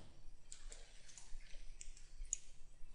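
Computer mouse clicks come in a quick run of small, faint, crisp ticks over a low background hum, close by, with no talking.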